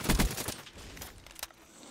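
Gunfire from the Black Ops 3 first-person shooter on the Nuclear map comes as a quick cluster of loud close shots, then a few scattered fainter pops.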